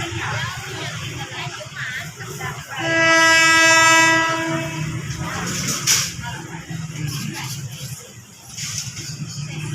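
Train 4306 hauled by locomotive NKF1208 arriving at Wongwian Yai station, with a loud sustained horn blast over rumbling, clattering wheels, along with people talking nearby.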